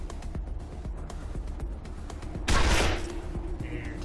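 A single gunshot fired in the Wasteland 2 Director's Cut video game, one loud broadband burst with a short decaying tail over a steady game ambience.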